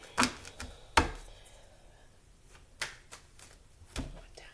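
Tarot cards are shuffled close by in sharp, separate bursts of riffling and slapping, spaced about a second apart with quieter gaps between them and no talking.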